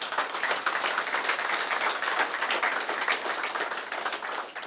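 A round of applause from an audience at a corporate presentation, dense steady clapping filling the room at moderate distance, sustained evenly without speech.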